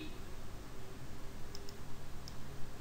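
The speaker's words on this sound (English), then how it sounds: "The first thing I'm going to do is get to the website the normal way, which is by typing in the URL." A computer keyboard clicks in a few light, sparse keystrokes while someone types a web address, faint against a steady hiss of room noise.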